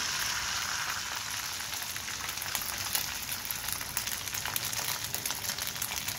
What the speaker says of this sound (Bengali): তেলটা গরম হলে আমি আরেকটি ডিম ভাজি করে নেব।